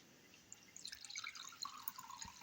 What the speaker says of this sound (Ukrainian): У мисочку наливаю воду